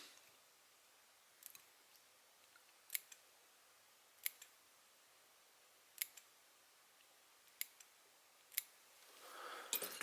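Scissors snip the hackle on the underside of a small fly-tying nymph, a series of about seven sharp, quiet clicks spaced a second or two apart in a silent room.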